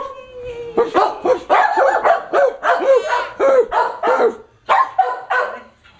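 A small dog gives a quick run of yappy barks and yips, close and fairly loud, pausing briefly before a few more barks, with faint talk in the background.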